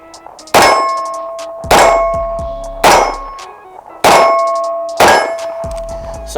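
An M&P Shield 2.0 9mm EZ pistol fires five sharp reports at irregular intervals, each followed by a ringing metallic clang and a lingering decay, with no talk over them.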